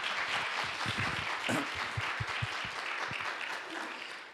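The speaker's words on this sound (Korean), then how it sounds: "우리 박수로 환영하겠습니다." Church congregation applauding together in welcome of visitors, a steady dense wash of hand claps filling the room for several seconds with a few stronger claps near the front.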